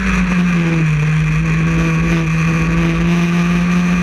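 Historic Formula Ford race cars lapping Croft circuit produce a loud, sustained engine howl, a steady high-revving tone held close by with no break.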